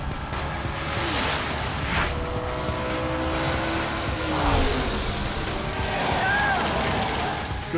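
A Chevy Nova and a Ford Mustang drag race at US 131 Motorsports Park, loud engines roaring and sweeping past with tire noise, while voices talk over the racket.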